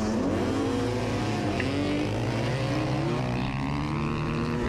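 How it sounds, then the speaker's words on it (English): Dirt bikes drag racing, a loud continuous engine roar with rising and shifting revs, close and steady throughout. "we're gonna do a bit of a drag race"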